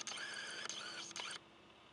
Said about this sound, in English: Sorry for the shutter noise, guys.